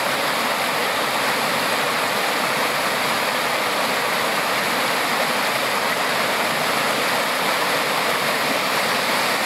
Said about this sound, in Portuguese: E aqui nós estamos no alto da cachoeira.